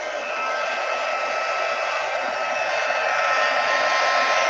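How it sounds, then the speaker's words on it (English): A crafting heat tool blows hot air to melt embossing powder, giving a steady, even whoosh and hum that runs continuously and close, with no speech. "I'm going to use my heat tool to melt that"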